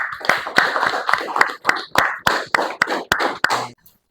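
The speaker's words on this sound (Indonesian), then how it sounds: "Beri tepuk tangan dulu." Audience clapping for a student group presentation at a classroom teaching assessment, a few pairs of hands giving uneven, moderately loud claps for about three and a half seconds, then stopping.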